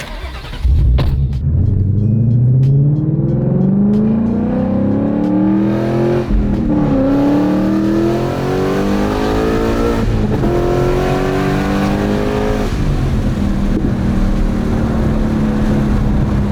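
A Mustang Mach 1 engine with long-tube headers revs hard and climbs in pitch, dropping briefly at each gear change before pulling up again, loud and close, with no talk.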